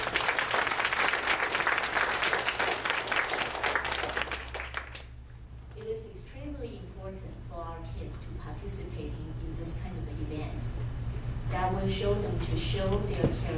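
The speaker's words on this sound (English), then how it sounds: "let's give our supporter a big round of applause" Loud audience applause at a charity performance for supporters, dense clapping for several seconds that then fades to a quieter scattered patter while a voice speaks over it.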